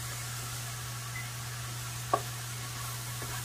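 Sauteed mixed vegetables sizzle steadily in a pan while being stirred, a constant hiss with a single sharp knock of the utensil against the pan partway through and a fainter tap later.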